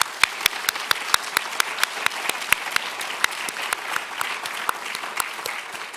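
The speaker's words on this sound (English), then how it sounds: "Let's do one more round of applause." Audience at a university Veterans Day event applauding veterans, with a few sharp close claps standing out over a steady wash of crowd clapping.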